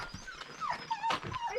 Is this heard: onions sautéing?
no